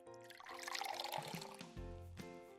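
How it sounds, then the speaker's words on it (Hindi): A glass of water poured into a jug, making a soft, continuous splashing trickle that shifts in tone as the stream lands, faint and close, lasting a couple of seconds without speech. "तो एक और गिलास पानी।"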